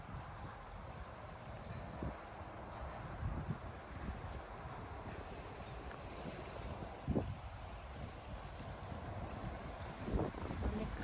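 Wind blowing outdoors in open countryside near farm fields and a lotus pond, a continuous breezy rush with gusts swelling at intervals, no talking.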